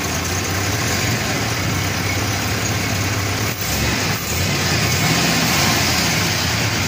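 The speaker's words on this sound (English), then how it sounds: "So, here it is, running like it's supposed to" An original 1957 Chevrolet 283 V8 with 66,000 original miles, fitted with a brand new carburetor and original breather, idles steadily and loudly up close, a constant low rumble with a brief dip midway.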